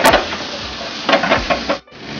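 Chilli chicken is tossed into sauce and bell peppers in a hot pan, with a sizzling hiss and a few quick scraping stirs and clatters, close and loud, ending in a short dropout.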